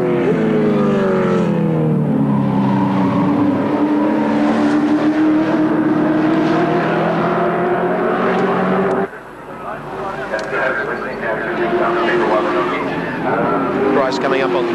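Commodore Group C race cars racing at Bathurst, heading up Mountain Straight: a loud, sustained engine drone with shifting pitch, dropping abruptly partway through before a second engine note rises, under continuous commentary.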